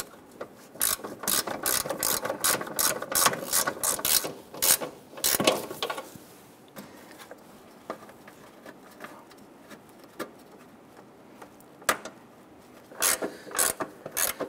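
A ratchet tightens the fender-to-grille bolts on a 1997-2006 Jeep Wrangler in rapid clicking bursts, with pauses between runs and a final flurry, close and with no talking.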